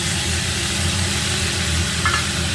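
A ground paste of ginger, garlic and onion sizzles in a hot pan with oil, a loud continuous frying hiss throughout, close up and steady with no speech.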